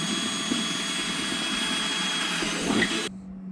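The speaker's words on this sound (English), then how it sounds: "So I'm going to drill into a brand new Igloo Marine ice chest." A power drill bores into a new Igloo Marine ice chest with a steady, loud, high whirring drone that stops abruptly near the end, leaving a low hum.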